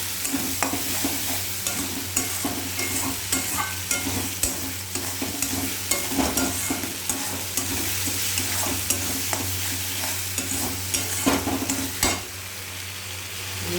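Spice masala frying in oil with sugar crackles steadily while a spoon stirs it in quick, repeated scraping strokes, close and busy, over a low steady hum, with a brief lull near the end.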